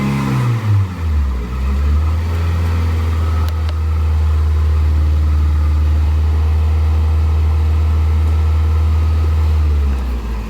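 A Toyota Corolla engine that had a charging problem drops from a brief rev and then holds a steady, even hum at raised speed, close and loud with no talk.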